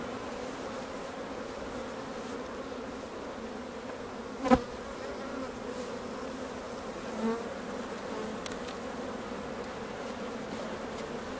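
Honey bees buzz continuously during a hive inspection at a Welsh bee centre, a steady close droning hum with one brief sharp knock partway through and no talking.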